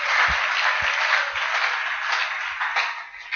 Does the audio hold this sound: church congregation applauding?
yes